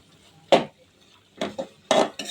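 Shredded boiled chicken breast goes into a pan in several distinct clattering bursts of metal utensil against cookware, separated by near silence, close and fairly loud with only a trace of sizzle.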